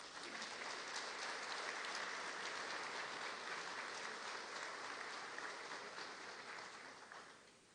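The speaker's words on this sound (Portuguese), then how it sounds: "Pediria para o Coronel Amerino Raposo uma salva de palmas, por favor." A lecture audience claps for a colonel, a dense sustained round of applause that stays level before tapering off toward the end, heard from some distance and quite faint.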